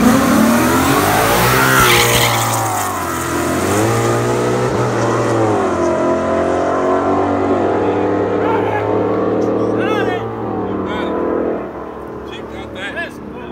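In a street race, an all-motor Coyote Mustang and a turbocharged Jeep SRT8 accelerate hard, loud engines revving and climbing through gears close by, then fading as they pull away, with people talking over it.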